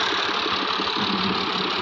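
A tractor engine nearby, either a New Holland or a Massey Ferguson 385, comes closer as a steady mid-pitched throb with a knocking pulse, fairly loud, with no speech over it.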